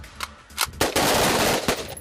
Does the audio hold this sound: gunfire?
yes